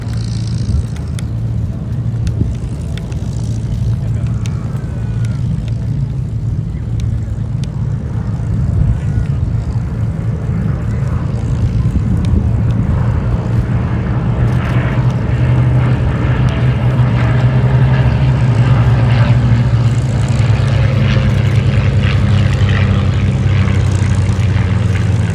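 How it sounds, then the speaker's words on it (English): Blenheim, Spitfire PR11 and P-51D Mustang piston warbirds in formation run and break at an airshow, a loud sustained propeller engine drone that swells and thickens toward the end, with no talk. "look out now, to the right, in for a run and break, a formation you don't see every day. Blenheim, Spitfire PR11 and P51D Mustang"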